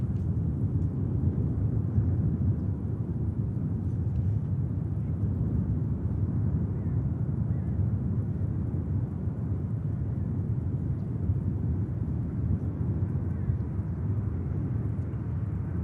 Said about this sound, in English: Ryanair next touchdown